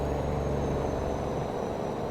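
A truck engine idles and hums steadily in American Truck Simulator, a constant low rumble with a faint high whine running throughout, no talking.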